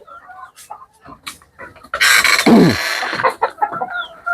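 Chickens cluck inside a poultry house, with scattered close clucks and squawks, then a louder burst of flapping, rustling and agitated calls from the flock.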